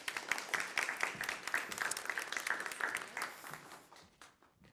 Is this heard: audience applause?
yes